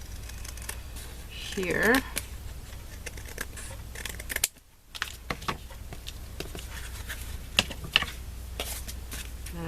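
Scissors cutting paper scraps for card making, with quick crisp snips and rustling close by, mixed with some handling noise and a brief spoken word.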